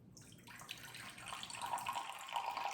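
Water pours slowly into a sourdough starter jar sitting on a kitchen scale, a close, steady trickle that grows fuller over about three seconds with no talking.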